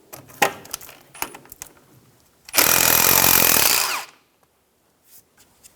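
On a 2000-2006 Toyota Tundra, a power tool with a 10mm socket spins out the ABS wire bracket bolt in one loud whirring burst of about a second and a half, preceded by a few metallic clinks and taps.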